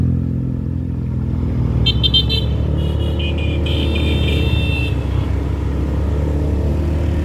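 A car climbs a steep, high uphill road on a new mountain route in West Sumatra, its engine a steady low drone throughout, with a passing vehicle's bright horn-like tones briefly sounding over the top.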